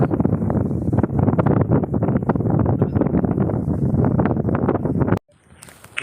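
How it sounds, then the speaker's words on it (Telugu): Strong wind roars and buffets steadily for several seconds, then drops off abruptly to near quiet. "భయంకరమైన గాలి వస్తుంది"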